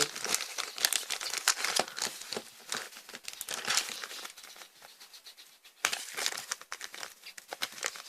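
Plastic packaging crinkles and crackles as it is handled for double-wrapping yellow modelling clay, a busy run of close, crisp rustles with a brief pause near the middle.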